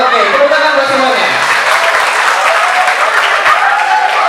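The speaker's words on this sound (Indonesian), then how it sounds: "Oke, tepuk tangan buat semuanya." Loud, sustained applause from a school study-tour group filling the room, steady dense clapping throughout with a faint voice briefly audible early on.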